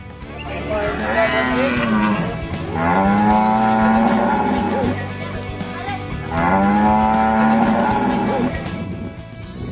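Cows and buffaloes moo in long, drawn-out calls, three loud ones back to back, at a village event in Bhandara district, Maharashtra, where 69 pregnant animals are being honoured.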